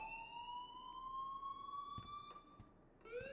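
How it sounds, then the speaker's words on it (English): An alarm in the video game Life is Strange rings as a steady, sustained electronic tone with slight upward drift, heard alone with a few faint clicks and a new tone starting at the end. "please turn off that alarm since that's your job."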